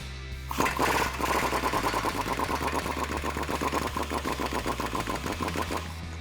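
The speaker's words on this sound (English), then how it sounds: "now we're gonna remove this 21 millimeter bolt holding the rear lower control arm to the spindle" An impact wrench rattles off a 21 mm bolt holding the rear lower control arm to the spindle on a 2015-2019 Ford Mustang GT350, a close, loud burst of rapid hammering lasting about five seconds.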